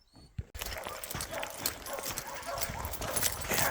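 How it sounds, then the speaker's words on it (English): Hunting dogs bark at an animal treed in the woods on a cool, wet morning, a steady dense chorus heard from some distance, with a person talking over it. "They're treed right there. Yeah, they're barking pretty good."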